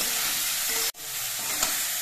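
Malabar spinach (pui) seeds frying in a pan, a steady close sizzle with a brief drop out and a single utensil tap shortly after.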